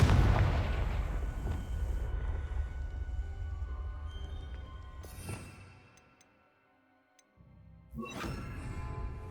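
A Confringo blast spell in Hogwarts Legacy erupts as a deep rumbling explosion that decays over several seconds into quiet, followed by a second burst of crackling impact with ringing tones.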